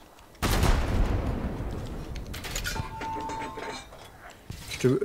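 Gunfire in a video game starts with a loud burst of shots, then sharper cracks and metallic clinks follow as the rumble fades, with players talking over the action.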